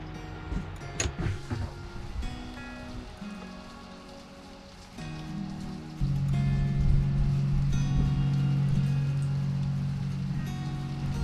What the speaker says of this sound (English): Currently it is raining outside